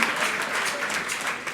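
Church congregation applauding the music ministry during a Sunday Mass, a dense, steady wash of clapping filling the room throughout.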